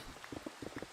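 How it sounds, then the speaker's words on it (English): Rain falls in the Minecraft video game as a soft, faint patter of quick irregular drops, with no talk over it. "Rain? This must be the hurricane I've been hearing about"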